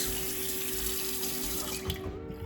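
Water runs steadily from a tap onto hands being washed, a close, continuous splashing hiss that thins out near the end.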